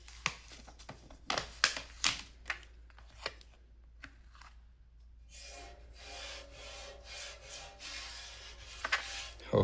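Sandpaper of 220 grit rubbing across a table saw top to flatten it, a series of short scraping strokes in the first half, then steadier continuous rasping, close and fairly quiet.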